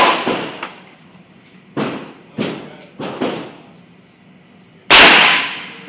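Gunshots from a .44 Magnum rifle at an outdoor shooting range: several sharp, loud reports spaced about a second apart, followed by a final, stronger blast with a long ringing tail.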